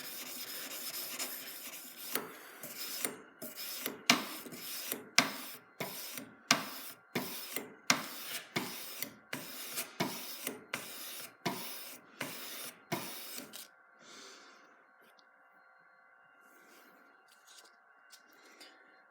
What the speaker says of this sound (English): Picking up the sanding stick at the end of each stroke as you're still moving in that direction